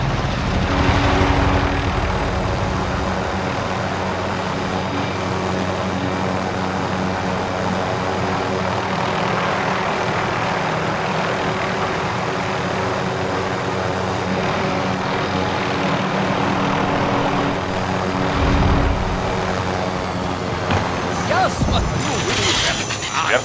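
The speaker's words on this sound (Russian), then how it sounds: "Вертолет для внесения денег уже вылетел." A helicopter arrives for a cash deposit in Call of Duty Warzone: Pacific, its steady rotor and engine roar filling the scene continuously at high volume.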